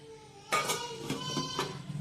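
A metal lid clanks down onto a cooking pot of vegetable stew with potatoes, one clear metallic strike followed by a few ringing rattles as it settles, close but fairly quiet.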